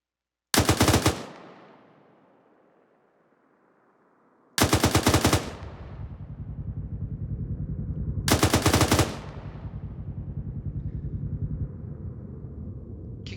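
Three sustained bursts of automatic weapon fire in a Ranger automatic weapons demonstration, each roughly half a second to a second of rapid shots, separated by pauses, with echoing rumble trailing after; loud and alone, no talk.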